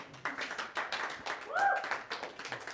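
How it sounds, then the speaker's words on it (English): Light, scattered clapping from a small audience for a choir, faint and uneven, with voices and a whoop mixed in. "I'd like to hear a little round of applause for these guys"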